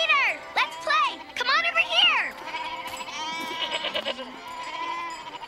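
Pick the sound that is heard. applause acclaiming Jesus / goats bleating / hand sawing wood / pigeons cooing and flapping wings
goats bleating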